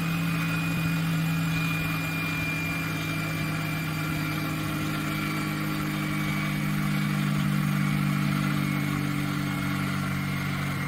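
A flywheel in a small DC-motor generator setup powering 600-watt LED lights keeps spinning after its motor is switched off, giving a steady, fairly loud mechanical hum with a low drone and faint high whine, alone throughout.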